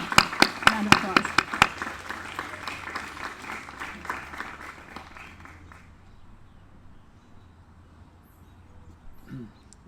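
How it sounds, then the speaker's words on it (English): Audience clapping for a guest speaker at a Witness Stones installation, a burst of sharp claps that fades out over several seconds into quiet outdoor ambience. "let's all give Mr. Jamoke like a huge round of applause."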